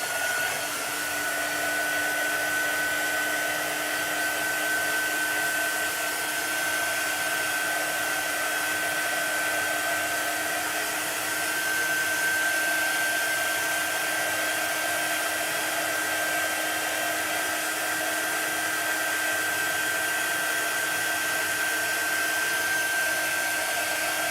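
A heat tool blows air steadily to dry a chalk transfer craft design, giving a continuous, close, even whirring hiss with a faint high whine that holds for the whole stretch, with no talking.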